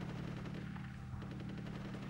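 Gunfire from a war scene in the video game Conker's Bad Fur Day, rapid repeated shots rattling over a low droning rumble, fairly faint and continuous.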